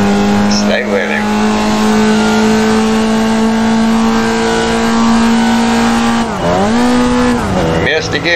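Formula Vee race car engine in the iRacing sim at Lime Rock, droning steadily at high revs, dipping sharply on a missed gear shift near the end and revving back up, with a voice talking over it.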